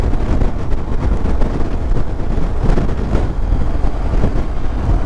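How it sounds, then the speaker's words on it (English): Strong wind on Clee Hill buffets the microphone with a steady, loud roar and rumble throughout, no voices heard. "Windy, isn't it?"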